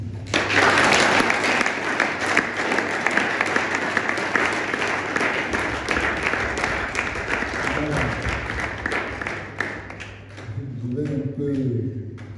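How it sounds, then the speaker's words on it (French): A congregation applauds at a Palm Sunday church gathering, loud sustained clapping that gradually thins toward the end, giving way to talk and a sustained tone. "sérieusement les applaudir."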